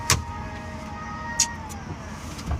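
Inside a car on the move, a steady low road rumble fills the cabin, broken by a few brief sharp clicks and bursts.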